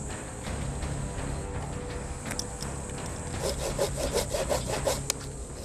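A hand saw cuts through the wood of a dead tree, sawing at first in a low rasp, then in a run of quicker, louder back-and-forth strokes near the end.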